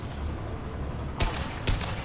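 Heavy video-game gunfire over a constant rumbling battle bed, with two sharp loud bursts about half a second apart near the end, no voices.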